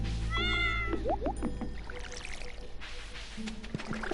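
A cat meows twice in Stardew Valley, a bright harmonic call followed by a short rising one, over steady in-game background music and ambience.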